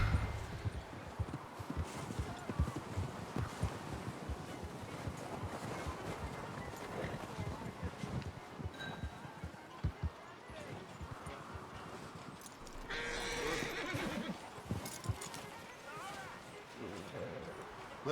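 Horse hooves clopping through a snowstorm in the Red Dead Redemption 2 video game, with a steady rhythmic gait under gusting wind and a voice speaking partway through.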